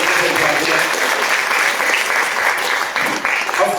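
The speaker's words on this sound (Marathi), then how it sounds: "तिच्यासाठी आपण पुन्हा एकदा जोरदार टाळ्या" Audience applause for a performer at a live stage program: loud, dense and continuous clapping from a large crowd that holds steady for about four seconds.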